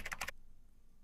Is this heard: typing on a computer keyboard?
yes